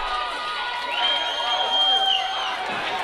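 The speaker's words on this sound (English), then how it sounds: "He got the crowd going again." Wrestling crowd cheering loudly in an arena, a sustained roar with rising whoops and shouts and a whistle-like tone standing out above the din.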